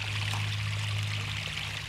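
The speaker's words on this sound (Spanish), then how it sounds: "el que más gotea, el que más agua sale es este de acá" Cold spring water trickles and pours steadily out of a cliff face, a continuous close splashing wash with a low hum beneath and no voices.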